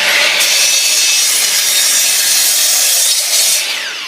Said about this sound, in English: We cut 5 boards for the tabletop.